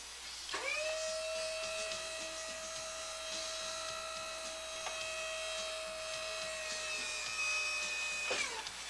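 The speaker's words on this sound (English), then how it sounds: "By activating the toggle switch, the liftgate will lower straight down without the platform unfolding." A motorized RC liftgate on a vehicle lowers straight down, giving a steady, tonal electric-motor whine that starts abruptly, holds evenly for about eight seconds, then stops, close and alone without voices.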